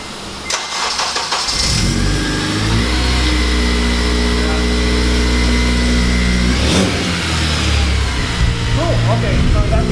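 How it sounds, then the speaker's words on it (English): A Honda Civic Si with a Skunk2 Alpha header cold-starts after a cranking whir, catching into a loud, rising rev before settling into a steady, raspy idle, recorded close, with a voice speaking briefly over it. "First cold start with the Skunk2 header."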